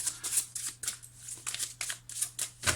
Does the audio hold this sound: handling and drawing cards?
yes